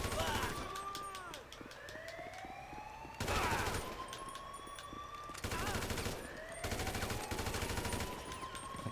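Bursts of gunfire in the GTA V video game, loud rapid volleys recurring every couple of seconds over a wailing police siren, with a voice talking beneath the shooting.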